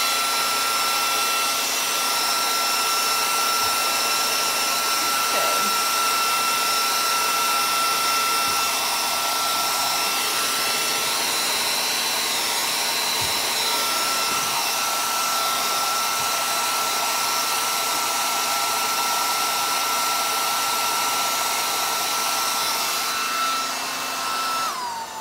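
A hair dryer blows steadily and loudly up close for the whole stretch, drying wet paint on an art study with a constant whooshing hum.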